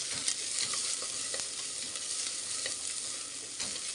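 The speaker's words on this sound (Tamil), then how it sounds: "வெஜிடபிள்ஸையும் போட்டு நல்லா வதக்கி விடலாம்." Mixed vegetables sauté in a pan for masala rice, giving a steady, close sizzle of frying with occasional light clicks and scrapes of stirring, and no talking.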